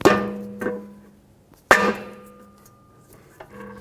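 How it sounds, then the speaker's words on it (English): A soft face hammer strikes the end of a CV axle on a 2003-2008 Honda Pilot, driving it into the differential: two sharp, ringing metallic blows about a second apart, each with a short decay, plus a lighter tap near the end. "using a soft face hammer, we're going to hit the end of the axle and seat it into the differential"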